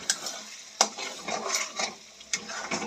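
Spinach being stirred and sautéed in spice paste in a pan, with a soft sizzle and irregular scrapes and clinks of a utensil against the pan, close and fairly quiet, no talking.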